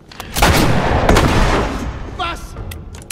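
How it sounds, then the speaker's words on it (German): A fire extinguisher explodes in the video game The Last of Us. A loud, rough blast with a rolling, gunfire-like rumble lasts over a second, then fades as a voice briefly speaks. "warum der Feuerlöscher explodiert ist"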